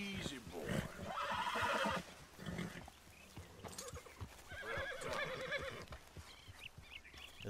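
A horse in Red Dead Redemption 2 whinnies loudly and then again, with clip-clopping hooves and background game ambience around the calls.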